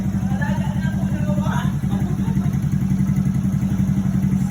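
A stock motorcycle engine idles close by with a steady, even throb that runs unbroken throughout.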